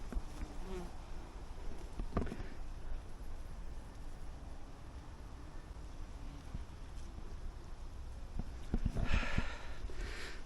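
Hundreds of wasps feed outdoors in summer heat, their dense, overlapping buzzing droning steadily nearby, with a few louder passes swelling near the end and no speech.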